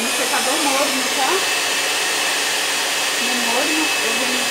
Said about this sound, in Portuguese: no secador morno, tá?